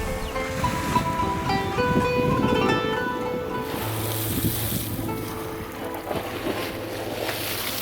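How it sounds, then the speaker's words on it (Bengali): Ocean waves roar along the Jeddah seashore beside a cruise ship as it slowly turns, a broad continuous wash of surf and wind with a low engine hum and faint tonal ringing mixed in. "ঢেউয়ের গর্জন শোনা যাচ্ছে"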